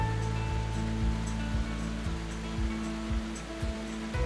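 A powerful glacial waterfall in Iceland's Vatnajökull National Park, plunging 44 meters wide and 100 meters across, gives a continuous deep roar with a low rumble, over a steady hum.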